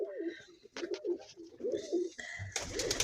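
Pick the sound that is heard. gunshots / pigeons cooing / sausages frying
pigeons cooing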